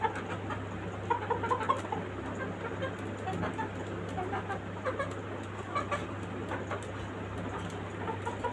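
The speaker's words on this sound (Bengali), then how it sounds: "এটা আমার আরেকটা মোরগ ফাউমি।" A Fayoumi rooster clucks softly in short, scattered bursts within a farmyard, under a steady low hum and faint bird chatter.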